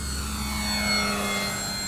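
A Durafly Gloster Gladiator Mk1 RC biplane fighter, an 1100 mm EPO model, flies past with a steady electric motor and propeller whine, loud and continuous with a slight swell near the middle.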